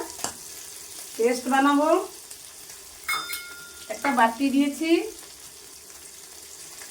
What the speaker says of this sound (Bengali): একটু লালচে লালচে করে উলট পালট করে 2-3 মিনিট মাছগুলো ভেজে নিব